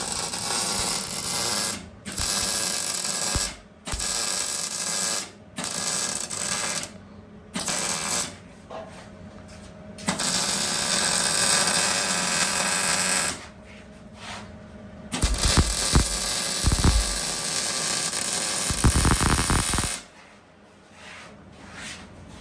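A tab being tack welded onto a bar during off-road vehicle repairs at the Glamis dunes: harsh crackling buzz in repeated bursts lasting a few seconds each, separated by short pauses, loud and close.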